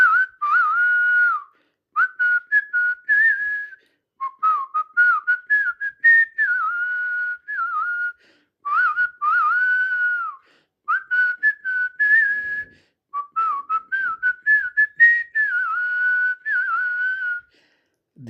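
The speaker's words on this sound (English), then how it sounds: "It is a typical village flute actually sound that I'm going to play for you." A village flute tune played alone in short, repeated melodic phrases with brief gaps, clear and close, the bright wavering tone resembling whistling.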